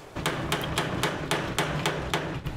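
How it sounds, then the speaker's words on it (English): Steady hammering while building a garden gate with chicken wire, about ten sharp metallic blows in an even rhythm, close and fairly loud with no voices. "Hammer them down."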